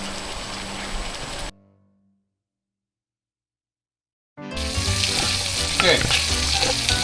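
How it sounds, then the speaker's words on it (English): Chicken pieces browning in a hot pan for chicken piccata, a loud, dense sizzle that cuts off abruptly into about three seconds of silence, then returns just as loud and crackling. "We're going to cook it for about 3 minutes on each side, just enough to get it browned"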